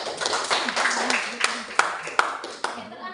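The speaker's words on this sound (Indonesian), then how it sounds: "Tepuk tangan dulu." Classroom students clapping for a presenting group, a loose scattered patter with a few sharp, distinct claps standing out, moderately close, while voices murmur underneath.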